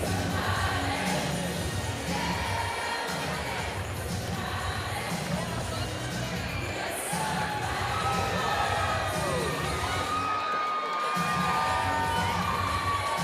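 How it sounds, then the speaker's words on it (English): A dense, loud crowd roars and cheers steadily throughout as a featherweight fighter makes his walkout at an island MMA event, with whoops and music blending into the noise. "It's always good when your walkout sound can get the crowd going."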